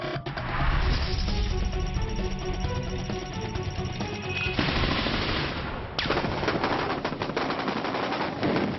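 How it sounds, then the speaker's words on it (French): An exchange of gunfire between French soldiers and insurgents in Afghanistan's Tagab valley: loud, dense bursts of automatic fire crackle almost without pause, with shots echoing and overlapping across the whole stretch. "Des échanges de tirs dans la vallée de Tagab en Afghanistan où les soldats français font face aux insurgés"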